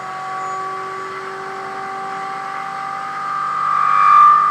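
Arduino-controlled DualPole mini motors with new rotors spin at full speed, giving a steady whirring hum with tonal whine that swells slightly louder toward the end.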